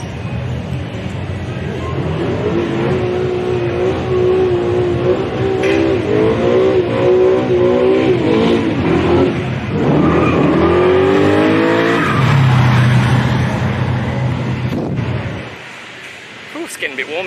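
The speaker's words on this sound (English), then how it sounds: "burnout today." A car performs a loud, sustained burnout at Powercruise Sydney, with the engine revving hard and tires squealing for about fifteen seconds before it suddenly cuts off near the end. A voice is also heard talking.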